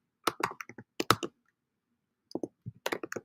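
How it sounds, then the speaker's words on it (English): Keys on a computer keyboard are typed in two quick bursts of clicks, then a pause and another run of taps, close and clear in a quiet room with no talking. "I'm typing it in right now."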